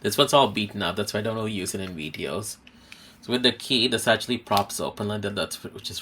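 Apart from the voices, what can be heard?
None of the usual background noises is heard.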